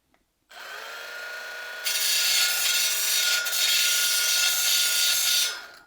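A Milwaukee 12V mini belt sander grinds against wood in a loud, steady whirring rasp that starts abruptly, grows brighter and more abrasive partway through, then cuts off, with no talking.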